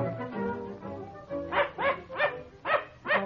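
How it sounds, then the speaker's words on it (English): A dog barks repeatedly at close range, a run of sharp, evenly spaced woofs that follows a brief whimpering, with no talking. "Oh, dear, they would have a dog."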